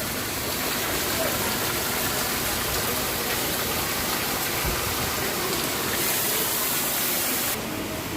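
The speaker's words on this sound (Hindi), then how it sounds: "बहुत तेज़ बारिश हो रहा है" Heavy rain pours down steadily as a dense, even hiss that fills the whole stretch without a break. It stays close and loud, with no voices heard.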